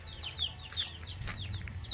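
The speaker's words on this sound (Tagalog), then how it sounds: "Ano po, may mga manok." Several chickens cluck and chirp in short repeated calls, close by, over a low background hum.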